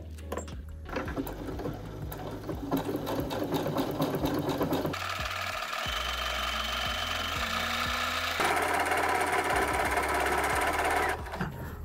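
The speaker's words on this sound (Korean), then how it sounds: "한번 장식 스티치를 박아 볼게요" Brother electronic sewing machine stitching decorative pattern 62 on fabric backed with lightweight interfacing, a loud close mechanical whir and rapid needle clatter running almost continuously, shifting pitch and rhythm as the pattern changes, with no talk.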